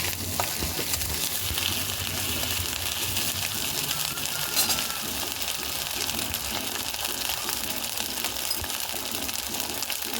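Ginger paste stirred and frying in a pan while cooking a spicy pomfret fish curry, a steady close sizzle with scraping stir noises throughout, no talk.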